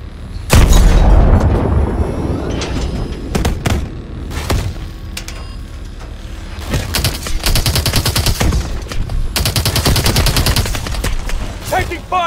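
Gunfire and missile launches in the Call of Duty Advanced Warfare Bio Lab mission: a heavy boom, then scattered shots and long sustained machine-gun bursts, loud and close, with brief voice lines mixed in.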